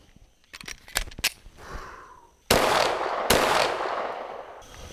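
Pistol shots fired at a target on a training range ring out as two sharp, loud reports, preceded by a series of metallic clicks and handling sounds, with a ringing echo after each shot.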